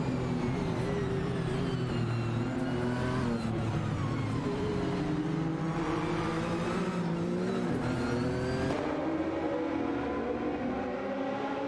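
Racing cars including a Sauber C9 and a Mercedes-Benz in a racing video game scream past continuously, several engines layered in a loud, dense roar of shifting pitches, with tyre hiss throughout.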